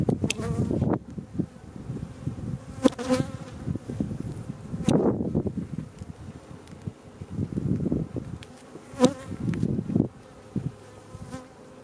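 Honey bees buzz around an open hive during a frame inspection, a soft continuous drone punctuated by louder bursts as insects fly close, with occasional rustling from handling.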